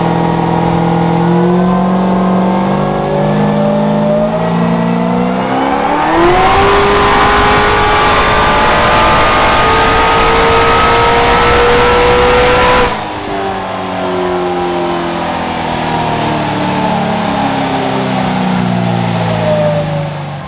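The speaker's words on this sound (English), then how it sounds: "So it's the end of day 6 and we made some dyno pulls." A streetcar build's engine revs hard on a dynamometer, pitch climbing steadily through a long, loud pull before cutting back to a lower rumble and rising again, continuous and close throughout.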